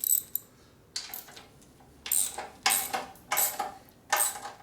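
Ratcheting clicks of a torque wrench on top-end bolts of a 1958 Harley panhead 74ci engine, several short bursts of metallic clicking separated by pauses.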